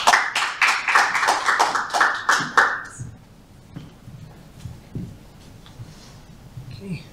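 Audience applause welcoming a speaker to the podium at a Geoscience Australia talk, a burst of dense clapping for about three seconds that stops abruptly, followed by quiet room tone with faint shuffles and knocks.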